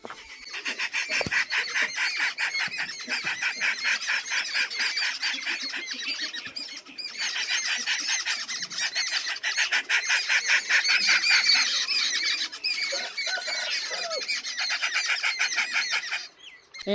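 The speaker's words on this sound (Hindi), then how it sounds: "जब कोई चीज़ अटैक करती है ना तो परिंदे बहुत ज़्यादा फिर शोर मचाते हैं।" A flock of geese honks loudly and nonstop in alarm, dense overlapping calls rising and falling, with brief wing flaps in between.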